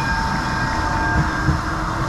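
A Blackpool tram bound for Fleetwood Ferry rumbles past close by on a rainy day, a steady low rolling drone with a faint hum and a couple of soft clunks from the wheels.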